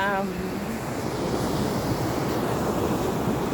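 Ocean surf and wind at the shore make a loud, continuous broadband roar with gusty wind buffeting the microphone, and a brief voice at the very start.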